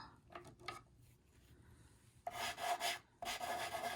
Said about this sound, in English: I'm gonna start rubbing these colors in just a second.